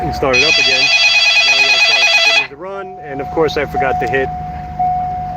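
A phone rings loudly with a bright electronic tone for a couple of seconds while someone talks over it, then speech continues.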